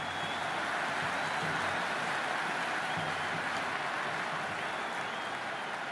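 Steady roar of an IPL cricket stadium crowd at a Mumbai Indians versus Kolkata Knight Riders match, a dense continuous wash of cheering and applause held at an even level throughout.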